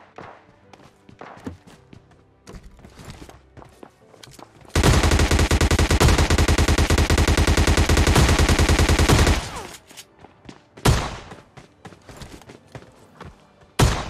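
In PUBG Lite, a loud, sustained burst of automatic gunfire rattles for about five seconds, followed by a few sharp, isolated shots, with faint footsteps and thumps between them.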